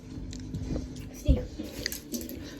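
A small child chews bread buns indoors, with soft wet bites and squishy mouth sounds up close, repeated irregularly under faint murmuring and background voices.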